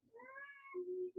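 A pet cat named Trixie gives a short, close meow that rises and falls, followed by a brief second call, alone in a quiet room.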